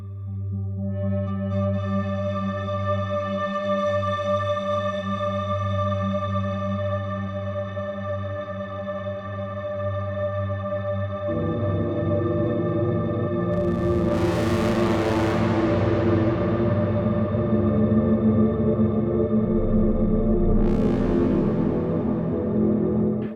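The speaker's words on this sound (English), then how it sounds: "Another great reverb for feedback loop is Eventide's Black Hole, because it already has this sort of metallic sound." Eventide Black Hole reverb in a feedback loop builds a dense, metallic drone of sustained ringing overtones that swells and shifts partway through, with bright whooshing sweeps rising over it, steady and loud with no voices.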